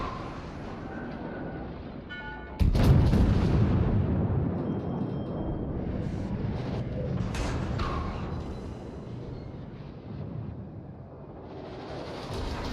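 Battleship main guns fire in the World of Warships video game aboard the Tier VI Dunkerque: one heavy, booming salvo hits suddenly, then a long rumbling roar lingers and fades under engine and ambient noise.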